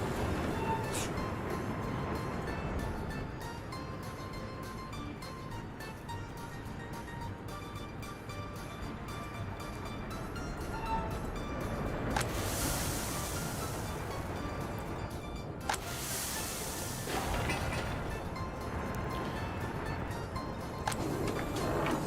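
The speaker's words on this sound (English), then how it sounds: "It is a big train." A big train in the city-building game Workers and Resources rumbles steadily throughout, with a continuous rolling rail drone and occasional brighter hiss swells, no talk over it.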